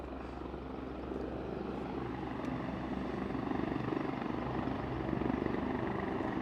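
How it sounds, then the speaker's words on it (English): A helicopter departing Aberdeen airport produces a steady, distant rotor drone with a low engine rumble that builds slightly, heard alone without talk. "Sounds like we might have another chopper going out."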